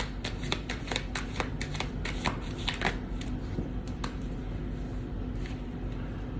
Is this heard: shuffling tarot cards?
yes